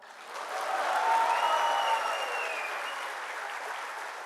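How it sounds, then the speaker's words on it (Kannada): An audience at a Karnataka Rajyotsava speech event breaks into sustained applause that swells quickly, holds as a dense wash of clapping, and then eases slightly over several seconds. "ಚಪ್ಪಾಳೆ ತಟ್ಟಕ್ಕೆ ರೆಡಿ ಆಗ್ಬಿಡಿ"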